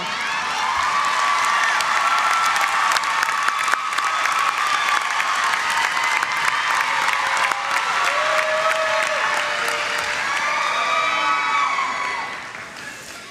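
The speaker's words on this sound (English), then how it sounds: "Let's applaud them too" A big commencement ceremony audience applauds steadily for several seconds, dense clapping with scattered cheers and whoops, tapering off at the end.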